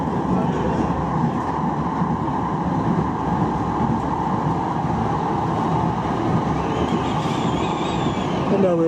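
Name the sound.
Manchester Metrolink tram running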